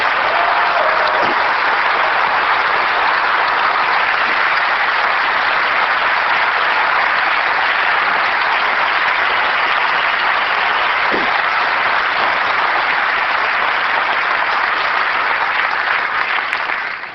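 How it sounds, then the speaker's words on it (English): Loud, sustained applause from a large Apple 1999 special event audience honoring software engineers, a dense, continuous roar of clapping held evenly for about seventeen seconds with a few faint whistles and no talk over it. "I would like to give a round of applause to all of our software engineers in the audience."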